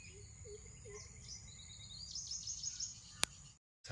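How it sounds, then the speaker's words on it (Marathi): Birds calling softly outdoors in a rural Konkan village just after rain, faint chirps and tweets spread over a steady insect drone, with a brief sharp click near the end. "आणि आवाज पण आहे का एकदम शांतपणे पक्ष्यांचे."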